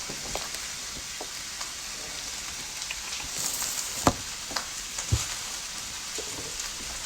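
Olive oil sizzling steadily in a wok, a constant broadband hiss with a few sharp pops and crackles scattered through, fairly close and without voices.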